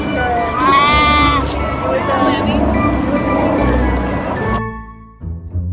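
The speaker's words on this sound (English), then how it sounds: "Sheep batting." Sheep bleating: a wavering, nasal bleat rises early on over a dense, noisy farmyard background that continues for several seconds and then drops away.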